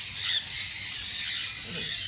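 Small birds squawk sharply while pecking bird seed from an outstretched hand, with a few close, high-pitched calls in quick succession over a faint outdoor background.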